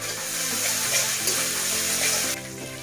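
Ginger garlic paste hits hot oil in a pan and sizzles loudly with a bubbling, watery hiss, then the sound drops abruptly near the end.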